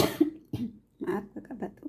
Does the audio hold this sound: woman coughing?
yes